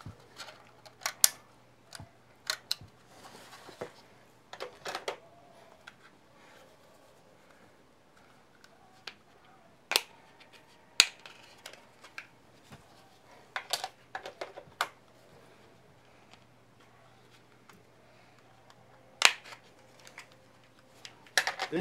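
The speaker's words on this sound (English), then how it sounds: "let's go ahead and put the SD cards in there" SanDisk Extreme Pro 64 GB SD cards being slid into a Canon XF-100 HD camera, heard as scattered sharp clicks, plastic snaps and faint handling rustles against a quiet low hum.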